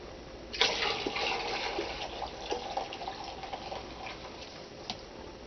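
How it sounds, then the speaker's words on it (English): Homemade liquid laundry soap pours into a pot, a steady close splashing and gurgling stream of liquid that runs for several seconds with small bumps and drips. "now I shall come over here and pour this into this pot"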